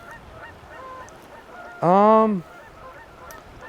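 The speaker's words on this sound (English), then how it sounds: "look at these geese flying our way" A single loud, nasal goose honk rings out close by over a flock of geese flying overhead beside a North Carolina trout stream, then fades into quiet background murmur with a brief spoken filler.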